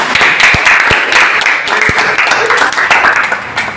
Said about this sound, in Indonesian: Aplaus juga untuk teman-teman